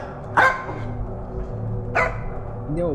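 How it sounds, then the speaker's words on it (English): Two sharp dog barks ring out about a second and a half apart, with a softer yelp near the end, over a low steady background hum. "my dog is barking"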